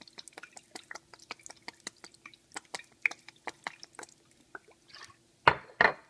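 Soy sauce goes into a pepper steak marinade of egg, pepper, ginger and garlic with faint, scattered drips and trickles, followed by two louder wet splashes at the end.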